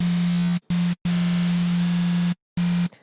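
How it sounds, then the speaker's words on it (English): Harsh synthesized white noise from an FM synthesizer operator set to parallel mode, sounding in loud sustained bursts over a steady low tone and cut off by short silent gaps, with no one talking. "if we get an operator and we put it into parallel mode and we pop a white noise on here"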